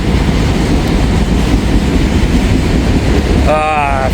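A CSX mixed freight train with auto racks rolls past, a loud steady rumble of rail cars close by, with a horn-like tonal blast breaking in near the end.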